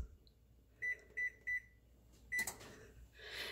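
An oven control panel beeps three times in quick succession while being set to 300 degrees, followed by a fourth longer beep and a faint click, in a quiet kitchen.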